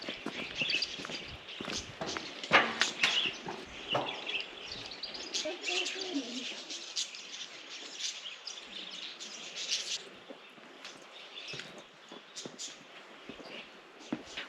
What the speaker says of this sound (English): The number of birds that you can hear is really amazing.